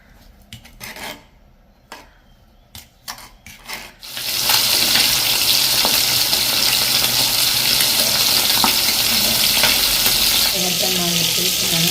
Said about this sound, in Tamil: பதப்படுத்தி வச்சுருக்கான சூட மீன் பாருங்கள் அதை இப்போ நாங்கள் பொறிக்க போகிறோம்